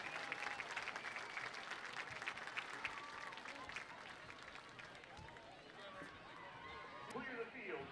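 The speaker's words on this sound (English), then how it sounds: "One last round of applause for all of our CJHS fall athletes." Crowd applause at a junior high school fall athletes recognition on a field, sustained clapping and cheering throughout with a voice talking over it.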